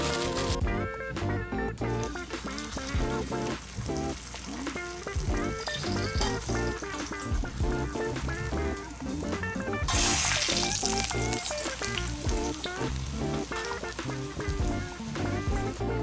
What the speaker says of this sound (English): I've got a little oil in the pan and I'm gonna fry them up a little bit.